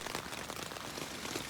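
Steady rain patters on a tent, heard from inside as a dense, even hiss of drops with no pauses, faint and continuous, as the shower thins but keeps falling.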